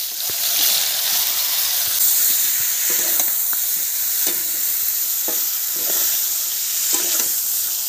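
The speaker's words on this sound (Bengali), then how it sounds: "তেল গরম হয়ে গেছে, কাঁকরোলগুলো দিয়ে দেব" Pieces of spiny gourd (kakrol) fry in hot oil with salt and turmeric, giving a steady, close sizzle with a few soft scrapes of stirring and no talk.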